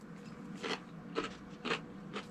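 Crunchy bites of a salad of corn, pickles, beets and green beans with ranch, chewed close up in four crisp bursts roughly half a second apart over a low background hum.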